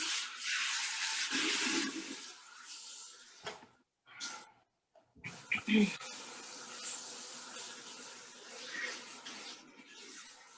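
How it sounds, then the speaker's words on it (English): Running water rinses clarifying shampoo out of textured hair, a steady close hiss and splash that breaks off briefly twice, with a voice talking over part of it. "So very quickly, put some clarifying in there and rinse that out."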